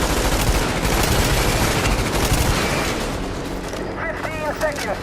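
Dense, loud PvP gunfire from multiplayer Tom Clancy's The Division: overlapping rapid bursts roar without a break for about three seconds. The barrage then eases slightly as a voice briefly speaks near the end.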